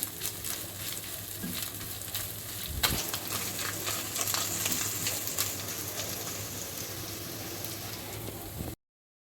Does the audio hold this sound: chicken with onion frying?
yes